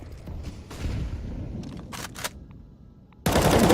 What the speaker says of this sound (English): Disgusting shot onto AR7